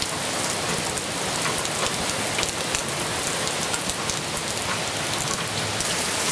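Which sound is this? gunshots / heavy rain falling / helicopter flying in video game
heavy rain falling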